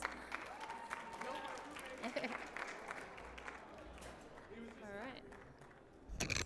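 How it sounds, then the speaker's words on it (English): Comic Con attendees clap for the cosplayers, a fairly faint, roomy spread of applause with scattered cheers and voices mixed in, tapering off before louder sounds return at the end. "Can we give all our cosplayers a hand of applause?"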